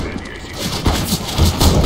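AK rifle fire during a Counter-Strike: Global Offensive casual deathmatch, several loud, close shots in a quick irregular run that grows denser toward the end.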